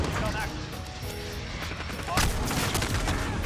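Gunfire in Call of Duty Modern Warfare, dense overlapping rapid shots and bursts that grow louder midway, mixed under a game's busy soundscape.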